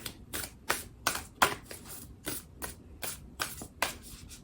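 Black Moon astrology oracle cards are shuffled by hand in quick, crisp bursts, about ten riffling flurries at a regular rhythm, close and clear with no talk.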